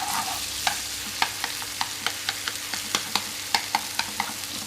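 Peeled tomatoes cooking in a pan of garlic and oil: a continuous soft sizzle punctuated by a regular series of light utensil taps and stirring clicks.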